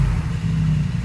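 Brabus G900 G-Class with its sport exhaust open, idling at low RPM: a deep, steady rumbling drone, loud and close, with no voices over it.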